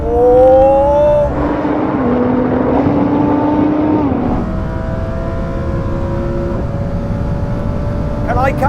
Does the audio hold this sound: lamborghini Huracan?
yes